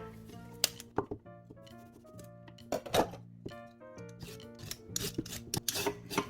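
A knife scrapes the skin off bellflower root (doraji) in short rasping strokes, close and crisp, with irregular light scraping and tapping against the root throughout.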